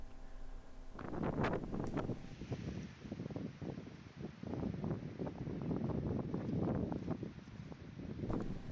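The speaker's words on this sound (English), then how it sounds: "with the winds whipping through the valley" Wind buffets and roars through a mountain valley in Glenmalure, Ireland, gusting loudly and continuously close to the microphone with rumbling low swells and no voices.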